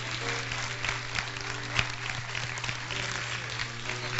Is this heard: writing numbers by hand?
no